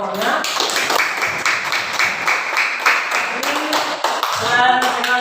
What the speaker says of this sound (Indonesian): Berikan juga tepuk tangan kepada kelompoknya.